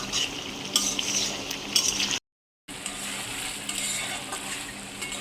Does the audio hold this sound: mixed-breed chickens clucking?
no